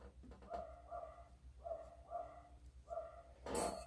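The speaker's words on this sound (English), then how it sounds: "Hopefully you guys can't hear my dogs barking upstairs." Dogs barking in an upstairs room come through muffled and distant in short paired bursts, with pauses between them, and a sharp loud noise close by at the very end.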